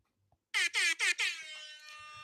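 A loud air horn blares in four quick bursts, the last one held and fading out, close and alone.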